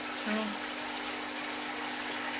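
Water churns and bubbles in an external fish tank filter, continuous at a steady level, close by, with a faint low hum underneath.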